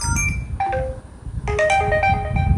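A melodic notification ringtone from an Oppo phone plays as a short sequence of bright, chiming electronic notes, fairly loud and close, over a faint background hum.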